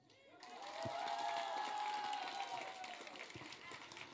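An audience at a folk song festival breaks into sustained applause, a dense wash of clapping that swells and holds under a loud, ringing hum.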